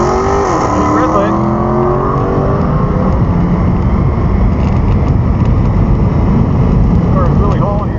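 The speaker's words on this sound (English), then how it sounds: "Car is really hauling here." A turbo Super Stock Jeep drag race car with an 88mm turbo accelerates hard down a quarter-mile strip, its loud, close engine roaring continuously with rising tones across the whole run, and speech over it.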